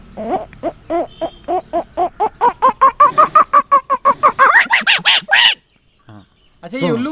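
A voice imitates an owl, repeating rapid hooting calls in a steady rhythm that rise and grow louder, then pause before another short burst.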